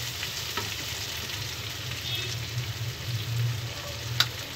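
Dry fruits and nuts roast in ghee, a soft, steady sizzle crackling close by with light stirring and an occasional sharp tap against the pan.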